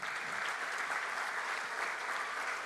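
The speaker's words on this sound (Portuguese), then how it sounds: "Aplausos." Applause from an audience at a youth council swearing-in ceremony, a steady, even patter of many hands clapping, heard at a moderate distance and sounding soft for its whole short length.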